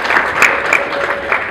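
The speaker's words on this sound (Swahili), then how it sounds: "Makofi mengi kwa Mheshimiwa Rais." An audience clapping for the President, a dense, close burst of steady applause throughout with no gaps.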